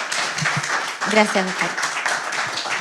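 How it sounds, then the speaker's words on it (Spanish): Audience applause for the speakers at a small fruit growers' seminar in Choapa, 2022: a steady wash of clapping from a crowd throughout, with a voice speaking over it. "a la audiencia que le demos un fuerte aplauso a los expositores que han llegado hasta acá"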